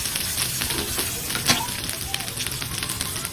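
Garlic and onion sautéing in hot cooking oil in a wok, a steady close sizzle and crackle with a brief louder spatter partway through, continuous throughout.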